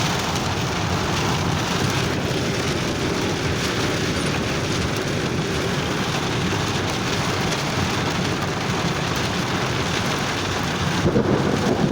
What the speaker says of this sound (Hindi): बहुत ज़्यादा गाज है, बारिश इतनी है